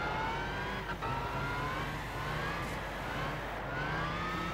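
A Ferrari race car engine in Gran Turismo 6 drones steadily and loud, its pitch slowly rising as it closes in during a classic supercar race.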